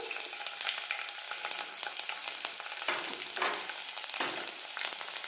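Finely chopped garlic hits hot oil where mustard seeds and cumin have already crackled, for a tomato chutney. A soft, steady sizzle runs throughout with scattered small pops and crackles, fairly quiet and close.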